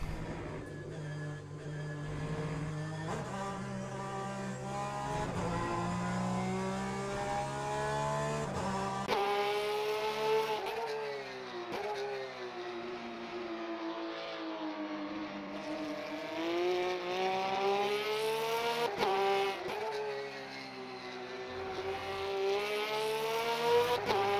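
A Porsche race car engine in the racing game Le Mans Ultimate screams at high revs, rising and falling through gear changes, loud and continuous with no talking.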